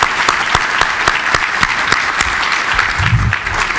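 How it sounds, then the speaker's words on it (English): An audience at a closing session of the California Adaptation Forum applauds loudly and continuously, with sharp individual claps standing out against the dense wash of clapping, close and strong throughout. "Let's give them a round of applause for an amazing couple days."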